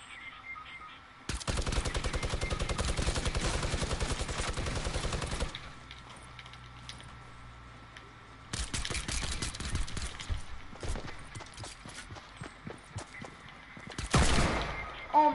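Video game gunfire comes in bursts: a long, steady, loud automatic stream, a quiet gap, then more irregular rapid shots and a final short close burst.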